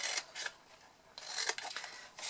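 Scissors snip through a paper tab for a chocolate box craft, giving several crisp, close cuts in quick bursts with short pauses between them.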